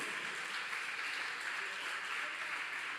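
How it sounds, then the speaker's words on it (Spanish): A church congregation claps during a sermon in a continuous wash of applause that holds at an even, moderate level throughout with no clear breaks. "Dele un aplauso fuerte al Rey de Reyes y Señor de Señores."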